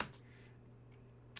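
Faint, sparse computer keyboard taps against a low steady hum, with a sharper keystroke near the end.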